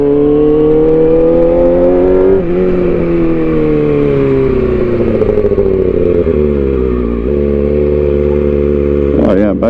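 A motorcycle, still cold and not warmed up, is revved hard several times in a row to warm its chilly tires, a loud close engine roar rising and falling between throttle blips.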